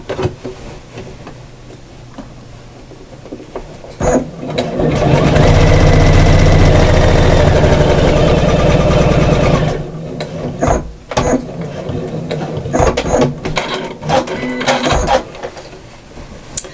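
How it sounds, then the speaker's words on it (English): A sewing machine stitches half an inch across the strap of a reversible shopper bag, a loud steady whirring run of several seconds framed by quieter handling clicks and fabric shuffling. "pop it under the machine. and we're just going to stitch that 1/2 inch across."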